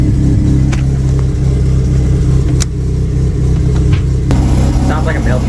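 A 1996 Mitsubishi Eclipse engine runs steadily and loudly up close, a continuous droning idle with slight rises, while people talk over it.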